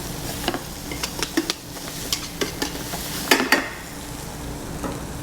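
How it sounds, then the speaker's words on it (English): Shrimp scampi sautés in a hot pan that is shaken repeatedly, steady sizzling broken by sharp metallic clatters and scrapes at an irregular rhythm. "Go ahead and give it a saute around. Shaking that pan, shaking that pan."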